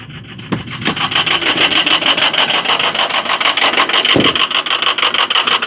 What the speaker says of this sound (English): A little clanky, a little noisy.